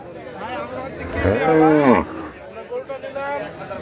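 A cow at a livestock market moos once, long and loud and close by, amid a murmur of crowd chatter and people talking around it.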